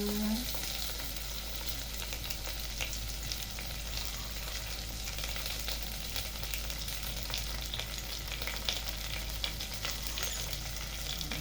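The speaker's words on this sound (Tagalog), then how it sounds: "And mix ang ating chicken. At lagyan natin siya ng water." Chicken stirred in a pot with added water for a vegetable chicken soup, giving a steady, dense sizzle and bubbling wash with scattered stirring scrapes, continuous and fairly close, with no talking.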